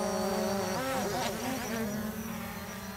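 The Lily self-flying camera drone buzzes steadily as it circles during a spiral shot, a close, continuous insect-like whine whose pitch wavers and bends mid-flight.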